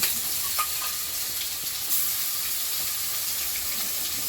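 Dried chilies, oil and garlic sizzling in a wok, a steady close hiss and crackle with a few faint clinks and no talking.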